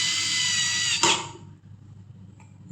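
A power screwdriver tightens fittings on a children's study desk during assembly, giving a short high whir that stops abruptly and fades into a low hum.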